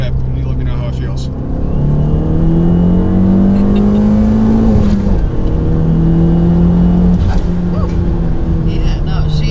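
A stock-turbo Fiat Abarth 500 with bolt-ons and a tune revs and accelerates hard in second gear from around 4,000 rpm. The engine note climbs loud and close inside the cabin, drops briefly at the shift, then pulls again, with people talking over it.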